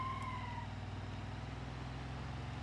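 Steady droning engine note of the Piccolina's inline-8 in BeamNG.Drive, a 2-ton car with a 2-speed automatic, held at an even, loud pitch throughout, with a brief high tone fading early on.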